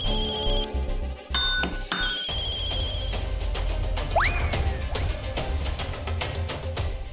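A phone ringtone plays as a short electronic melody with bright tones, followed by a rising chirp over a busy background.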